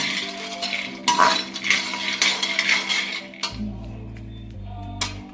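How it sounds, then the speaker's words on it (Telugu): Dry frying a jowar snack mixture in a pan with no oil yet, a spoon scraping and tossing the grains in a steady clatter of metal and dry rustling, close up with no talk. "వేగిన తర్వాత అంటే డ్రై ఫ్రై చేస్తున్నాను"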